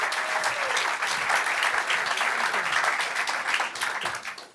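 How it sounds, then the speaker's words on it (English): Sustained applause from a live audience, dense steady clapping that fills the space and tapers off at the end. "give a big round of applause for Lilia."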